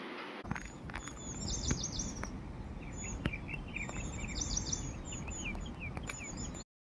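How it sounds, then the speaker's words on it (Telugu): Many small birds chirp and trill in rapid, overlapping calls near a check dam in rural Telangana, bright and fairly close over a steady outdoor ambience. "పక్షుల కిలకిలలు ఎంత హాయిగా వినిపిస్తున్నాయి"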